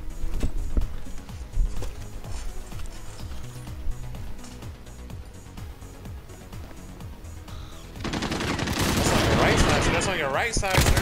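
Rapid bursts of automatic gunfire in Modern Warfare 3 3v3 gunfight matches crackle loud and close, with overlapping shots and a dense roar of fire near the end, while players talk over it.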